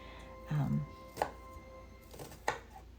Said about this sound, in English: Next, I am going to chop 1 large onion finely.